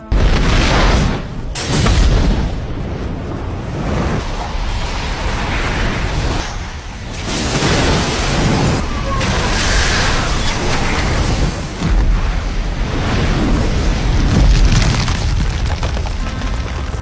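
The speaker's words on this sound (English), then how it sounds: "Eventually, a violent flare erupts." A violent flare erupts in a film scene: sustained roaring blasts and rumbling booms, loud and dense, surging and easing in waves over about seventeen seconds with no voices.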